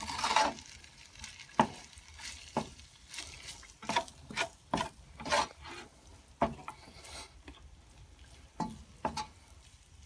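Pork fried rice sizzles in an oiled pan while being stirred, with soft steady frying under repeated sharp scraping strokes of a utensil against the pan at an irregular pace.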